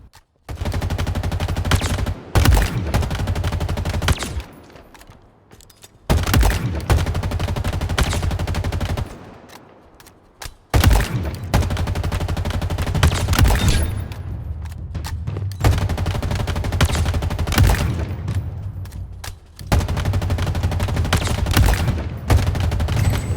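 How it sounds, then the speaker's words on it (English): Bursts of automatic fire from the MA40 assault rifle in the video game Halo Infinite, loud and punchy, in several sustained volleys separated by short pauses, with no talking. "If you need something that will kill, the MA40 assault rifle is your go-to choice."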